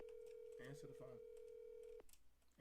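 A telephone call rings out with a steady electronic tone, quiet and fairly distant, while someone speaks briefly over it before it cuts off.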